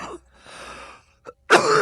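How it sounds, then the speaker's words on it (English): A person coughs while spraying patina paint on a rat rod, a short harsh burst near the end after quieter hissing and a brief click. "I hit it so fast it made me cough."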